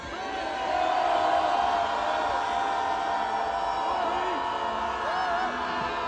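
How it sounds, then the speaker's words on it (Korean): A rally crowd at an anti-impeachment protest outside the Corruption Investigation Office in Korea shouts and cheers together, a sustained roar of many voices with scattered whoops, heard from within the gathering. "마지막 대통령께 함성 지르고 마칩시다."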